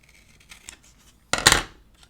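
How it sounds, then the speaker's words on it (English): Scissors snip through a paper planner page, a few faint ticks followed by one loud, crisp cutting stroke up close, then quiet. "Cut my page as usual."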